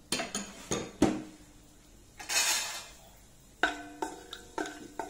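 Metal spoon stirring garam masala in hot oil in a pot, with sharp clinks and scrapes against the pot at irregular intervals and a brief soft sizzle between them.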